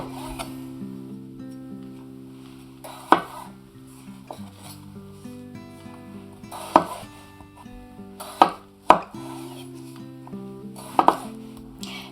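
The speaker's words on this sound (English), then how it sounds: "Now when you're cutting your potatoes, you don't want to make the cubes too large" A knife cuts red potatoes into cubes for mashed potatoes, giving sparse, sharp chops against a board at irregular intervals over a steady tonal hum.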